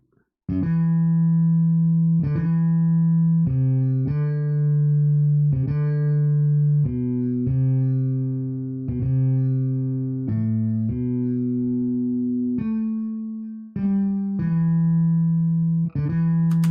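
A solo bass guitar line plays sustained, separated notes one after another, steady and fairly loud, with no other instruments or voices.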